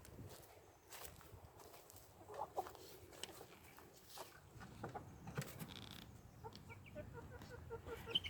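Meat birds on a small homestead cluck softly and intermittently, faint and fairly distant, with occasional creaks and footsteps nearby.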